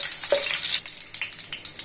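Spices frying lightly in a pan, a close hissing sizzle that drops after a moment into softer intermittent crackles and spatters, with no talk.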